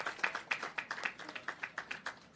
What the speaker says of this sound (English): We have to clap, Sir Spence, come on